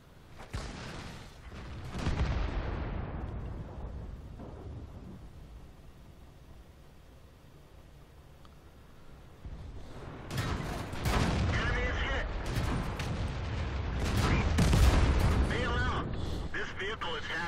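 Tank gunfire and explosions in World of Tanks, with a sharp cannon blast followed by rumbling decay, then a dense stretch of heavy firing and booming impacts, while someone talks over the battle.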